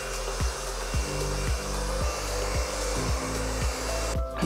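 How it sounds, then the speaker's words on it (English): A hair dryer blows men's hair backwards for a classic side-part style, its steady close-up roar pulsing rhythmically as it is swept back and forth, with a brief rustle at the very end. "blow dried backwards"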